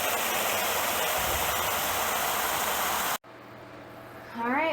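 Water pours in a loud, steady rush into a fodder system tray for a few seconds, then cuts off abruptly, leaving quieter dripping and a brief tonal creak.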